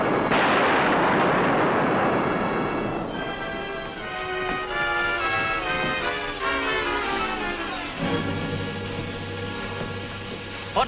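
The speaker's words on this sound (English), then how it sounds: "What did those shots mean?" Several loud gunshots crack out in a mountain tunnel setting from a 1941 western, their blasts rolling and echoing over a swelling dramatic orchestral score, with no talk.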